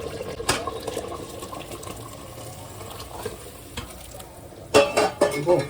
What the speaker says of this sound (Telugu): మనం వాటర్ పోసేసుకుందాం.